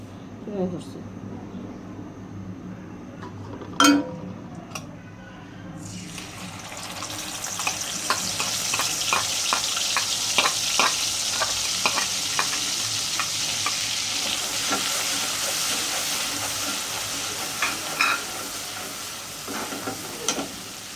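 Onion frying in salted oil, a steady loud sizzle that bursts in partway through and continues with stirring scrapes, while a person talks over it.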